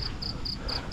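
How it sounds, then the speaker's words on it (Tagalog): Crickets chirping outdoors in regular high-pitched pulses, about four bursts evenly spaced, over a rumbling low background noise; no speech. "Pero may mga kuliglig dito kung naririnig."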